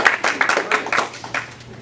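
Scattered audience clapping at a mentalism competition act, a thin round of distinct hand claps, fairly close, tapering off over a couple of seconds.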